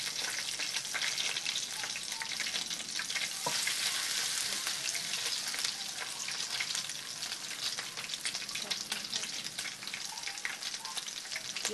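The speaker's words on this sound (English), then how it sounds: "You have to fry this until golden brown on both sides." Steady, dense sizzling of shrimp tempura frying in hot oil, crackling continuously at close range with no voices.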